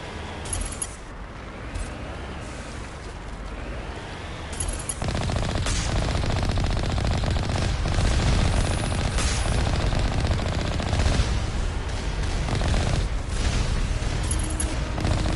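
Sustained automatic gunfire blasting turrets in Mass Effect 1 Legendary Edition on PlayStation 5, a loud, dense barrage with heavy booms that intensifies midway and rolls on almost without pause.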